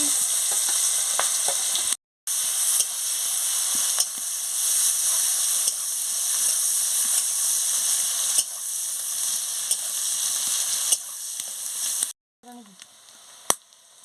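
Chopped onions drop into hot oil already tempered with black cumin, a loud steady sizzle and hiss with stirring scrapes, broken by a brief pause near two seconds and dying to quieter stirring and a sharp clink at the end; shrimp malai curry cooking.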